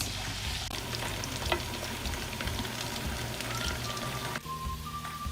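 Potatoes sauté in oil in a pan for aloo palak, giving a steady, dense sizzle and crackle that stays loud and continuous throughout, with no one speaking.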